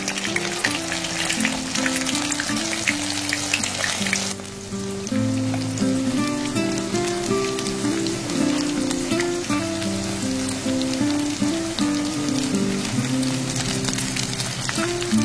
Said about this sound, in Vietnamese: Khi dầu vừa nóng á, thì mình cho sườn vào chiên.